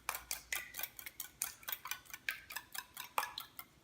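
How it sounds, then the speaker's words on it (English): Two eggs are beaten in a bowl for empanada dough, with a fork or whisk tapping the bowl's side in a fast, steady rhythm of sharp clinks, close and fairly quiet, and no talking. "And then after that, we can mix our egg with it."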